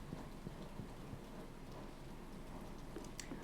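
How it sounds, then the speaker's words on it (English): Steady video game rain on Ginger Island in Stardew Valley, a continuous soft hiss with scattered patters, faint and even throughout, without talking. "Oh, and it's raining."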